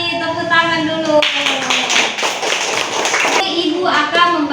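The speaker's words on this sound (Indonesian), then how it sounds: "Betul sekali, tepuk tangan dulu." Children clapping together in a classroom, a short burst of brisk applause in the middle, framed by a voice and kids' voices before and after.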